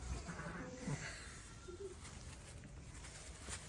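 A lamb bleats faintly a couple of times over a quiet barn background with light rustling, in lambing season sheep pens.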